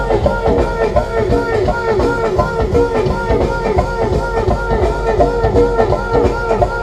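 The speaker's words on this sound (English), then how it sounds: "You guys have to love the sound of that go-go music." Live go-go music pounding at a Black Lives Matter street protest for George Floyd in Washington, DC: loud, dense syncopated drumming and percussion with voices mixed in, continuous and close.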